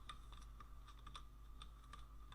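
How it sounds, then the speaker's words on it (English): Steady typing on a computer keyboard while writing HTML code in VS Code: quiet, close, irregular clicking keystrokes under a constant low hum, with no talking. "you see that I type the necessary things"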